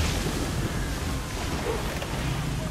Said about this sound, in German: Dämlichen Wellen.